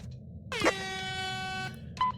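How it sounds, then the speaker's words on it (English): A loud air horn from the Fortnite video game blares once for about a second with a sharp onset, over a steady low rumble of game ambience, followed by a brief fainter sound near the end. "So V uses an air horn near Twisted Glisten"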